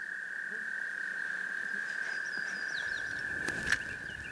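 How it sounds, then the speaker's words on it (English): A single toad holds a long, steady trill at a forest pond in spring, one unbroken call ringing clearly over a quiet background with faint bird chirps. "at this time of spring, the sounds of toads fill the forest"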